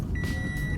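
A parked car sounds a steady electronic warning beep, a continuous tone running through the short moment over low background rumble.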